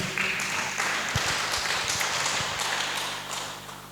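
A church congregation claps together in sustained, dense applause that stays loud for about three seconds before starting to thin out, with a low hum underneath.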